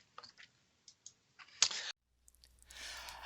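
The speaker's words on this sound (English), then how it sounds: "So we just snip them off." Garden snips cut off the old dead roots of spring-blooming bulbs, a few soft clicks followed by one sharp snip close by in a quiet room.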